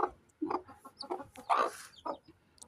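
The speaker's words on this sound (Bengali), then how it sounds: "এই মুরগির বাচ্চাটা মনে হয় বাঁচবে না ও একদম অসুস্থ হয়ে গেছে" A sick chick gives a series of short, faint, irregular clucks and peeps close by, with no voices.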